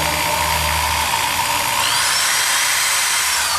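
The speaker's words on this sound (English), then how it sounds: "I drilled through the axle." Loud, steady whine of a power drill boring through a steel rear axle of a 1989 Ford Festiva, high-pitched grinding that continues unbroken, with a low rumble fading early on.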